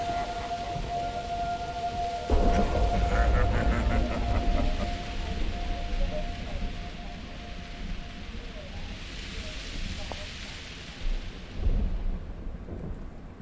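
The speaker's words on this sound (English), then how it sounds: "Thunderstorms." Rolling thunder and steady rain in a stormy game scene, with a loud burst of thunder early on, then a long fading rumble under the rain and a few lighter thunder swells toward the end.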